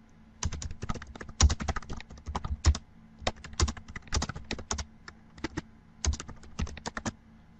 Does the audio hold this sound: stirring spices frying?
no